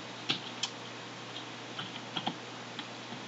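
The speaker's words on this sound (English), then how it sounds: "so we'll just type 19 in there" Keys on a computer keyboard are tapped, a handful of separate clicks spaced irregularly over a steady background hum, close and fairly soft.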